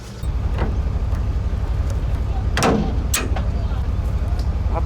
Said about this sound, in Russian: Вон он уже набирает обороты